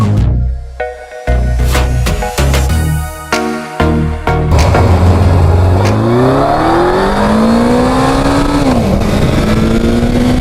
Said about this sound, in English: I love this very quiet exhaust.